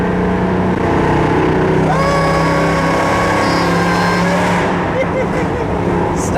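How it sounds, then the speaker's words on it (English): Tuned Mercedes C63 AMG V8 with headers and stock mufflers and resonator, a loud, steady droning exhaust heard from inside the car while cruising, with faint crackles and pops near the end. "It's just the headers and the fact that it's a C63 and it's tuned, so it's got this little pop."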